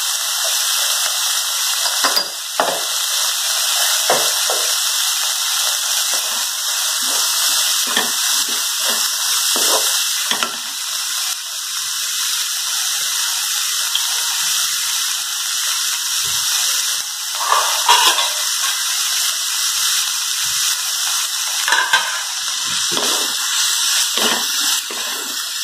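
Garlic and spices fry in a pan for safflower greens with lentils, giving a loud, continuous hiss of sizzling oil that runs steadily throughout with faint clicks and no talk.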